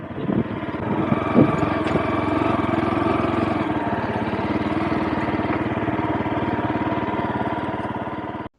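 A motorbike engine idles near the Plain of Jars in Phonsavan, Laos, holding a steady, close, continuous putter for several seconds before cutting off abruptly.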